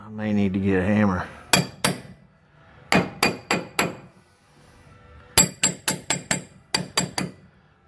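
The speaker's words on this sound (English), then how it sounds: "So I'm gonna go get a hammer and give it a couple." A hammer strikes a metal part under a Dodge Ram 3500 during transmission removal, in several rapid clusters of sharp ringing clanks, loud and close, after a brief moment of voice at the start.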